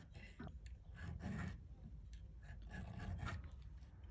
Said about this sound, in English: I'm going to file that bevel all the way